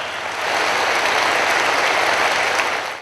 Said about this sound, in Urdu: خواتین و حضرات, آپ کی بھرپور تالیاں.